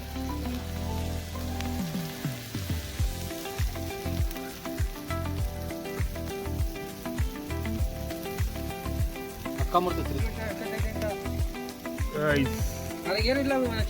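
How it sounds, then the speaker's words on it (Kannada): Oil hits chicken pieces for a tandoori dish and sizzles steadily and close, with frying crackle running throughout under occasional voices. "ಎಣ್ಣೆ ಹಾಕ್ತಿದ್ದೀವಿ ನೋಡಿ ಗಾಯ್ಸ್ ಮಾಂಸಕ್ಕೆ ಹಾಕೋ ಎಣ್ಣೆ"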